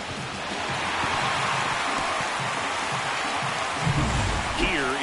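Steady rain falls through a baseball game in MLB 25, a continuous broadband hiss that fills the whole stretch with a brief low thump near the end and a faint tonal sweep over it.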